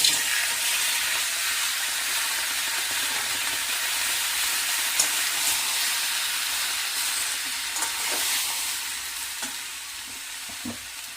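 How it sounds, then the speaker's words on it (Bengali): Tomatoes hit hot mustard oil with blackened panch phoron while making tomato achar, giving a steady, close hiss of frying with occasional stirring clicks and pops toward the end. "এবার টমেটোগুলো আমি এর মধ্যে ছেড়ে দিচ্ছি।"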